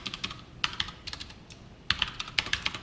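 Close keyboard typing as Java code for a coding-test exercise is entered, with irregular bursts of crisp key clicks separated by short pauses and no talking.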